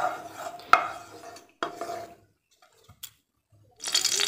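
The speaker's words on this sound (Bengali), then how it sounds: "তেলটা দিয়ে একটু নাড়াচাড়া করে নেব" A utensil stirs oil in a hot nonstick wok: a few short scraping strokes broken by near silence, then a brief hissing burst at the end, close and fairly quiet.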